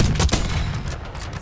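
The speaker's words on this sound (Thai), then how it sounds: "เสียงปืนสรรพาวุธในยุคเก่าๆของเกมนี้ทำออกมาได้สะใจมากเสียงดุดันและมีความสะใจ" Rapid bursts of loud old-era gunfire in Call of Duty: Black Ops 6 crackle and boom in quick succession, a dense volley of shots with no talking.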